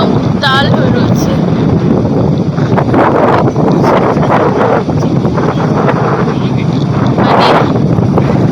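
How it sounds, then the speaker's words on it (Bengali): Strong wind roars over the rough sea at Puri where boats ride the swell, a loud continuous buffeting rush against the microphone with indistinct voices briefly audible beneath it. "আর তেমন পাগলের মতো হাওয়া দিচ্ছে"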